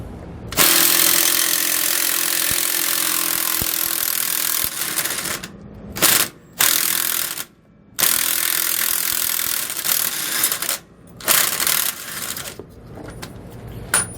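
A 1 1/8 inch socket and wrench loosen sway bar bolts on a 2018 Winnebago, giving steady close clicking and grinding broken by several brief pauses, with no voices.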